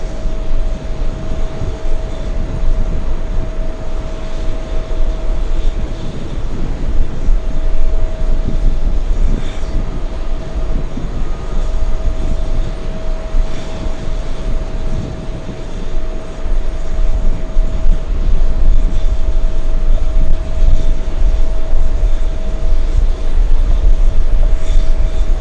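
Aer Lingus airliner arriving from Shannon, Ireland, heard as a steady jet engine roar with a low rumble and a faint tonal whine, holding fairly constant and swelling slightly near the end, with no voices.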